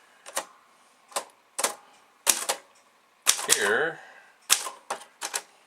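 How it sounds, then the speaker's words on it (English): Vintage Commodore typewriter being typed on: sharp, separate key strikes at an uneven pace, one followed by a ratcheting carriage sound, close and clear with a brief spoken word. "I will type it."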